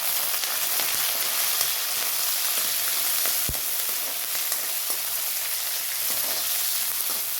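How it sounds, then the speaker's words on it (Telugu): Tomato pieces and curry leaves fry in a pan with a steady, close hiss of sizzling oil throughout, and a single soft knock partway through. "కొంచెం వేగనిద్దామండి."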